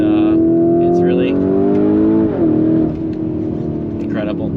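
A 2021 Lamborghini Urus revs loudly up through the gears on a test drive, the engine note rising, dipping at a shift and settling again close-up, while someone talks over it.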